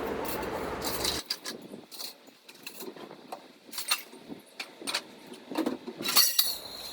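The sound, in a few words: arranging kitchen utensils, clinking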